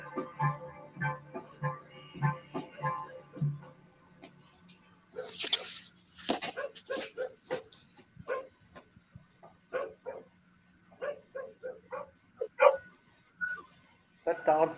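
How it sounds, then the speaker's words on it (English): Dog barking heard in an old movie soundtrack playing a looping bark, with repeated yips and bow-wows at moderate distance, mixed with speech and other film sounds. "That dog sounds like it's trapped in a loop."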